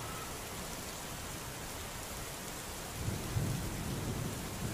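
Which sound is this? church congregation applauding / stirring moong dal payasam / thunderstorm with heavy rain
thunderstorm with heavy rain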